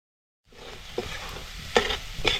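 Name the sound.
stir-frying fresh grated coconut and coriander in pan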